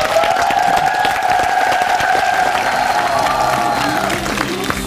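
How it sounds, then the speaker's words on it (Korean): Loud studio audience applause on a Korean TV talk show, dense continuous clapping under a sustained musical tone that fades near the end. "앞으로 정말 유명하시라고 박수 한번 부탁드리겠습니다."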